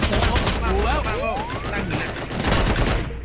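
Rapid bursts of video game gunfire from a Free Fire match, loud and dense, fired in quick overlapping volleys throughout while players talk over it.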